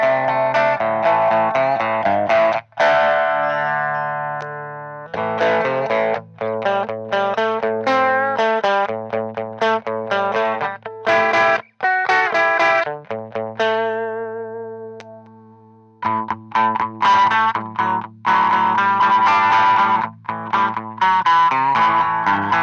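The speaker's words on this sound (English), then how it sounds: "Mid-range boost is also available without distortion on." An electric guitar runs through an Aclam Go Rocky Go pedal with mid-range boost and no distortion, playing loud, bright, sustained notes and strummed chords in phrases broken by brief pauses.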